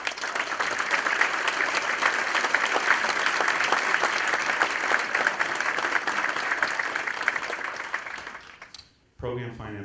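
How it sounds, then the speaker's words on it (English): Audience at an annual meeting applauding for the finance team, a sustained dense clapping that fades out near the end before a voice resumes. "Just give them a round of applause."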